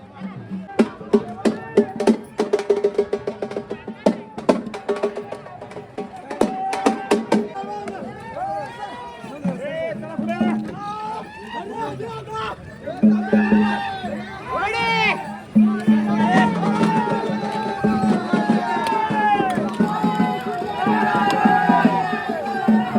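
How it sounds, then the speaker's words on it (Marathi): A dense crowd of pilgrims packed into the Shikhar Shingnapur temple, with loud ongoing babble, shouting and bursts of clattering and ringing, close and crowded throughout, with voices talking over the din. "भयंकर गर्दी होती आज पण"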